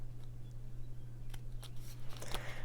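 A few quick scissor snips trimming a paper card, close up and soft, followed by a crisp crunch of handled paper.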